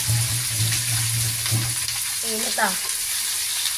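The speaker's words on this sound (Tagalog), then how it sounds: "Igisa na natin ang ating gulay." Bean sprouts, tofu and vegetables are sautéed in a hot pan, making a loud, steady, close sizzle that runs the whole time, with a brief spoken remark over it.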